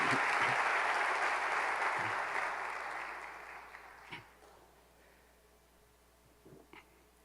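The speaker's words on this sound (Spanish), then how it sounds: "Dele el aplauso a Dios," Applause from a church congregation at a Spanish-language worship service, loud and steady at first, then tapering off to scattered claps.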